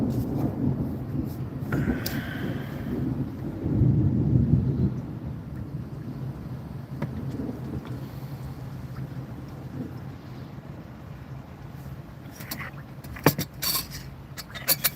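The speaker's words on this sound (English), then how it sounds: "Listen to some thunder." Low, rolling thunder rumbles over a river, swelling for a few seconds and then fading into a steady outdoor background, with a few sharp handling knocks near the end.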